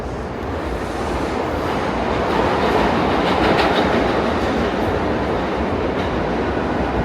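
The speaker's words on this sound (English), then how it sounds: "You can hear the subway roaring underneath us." A subway train roars beneath Fifth Avenue in Manhattan, a loud sustained rumble with rhythmic clatter of wheels on rails swelling and holding for several seconds.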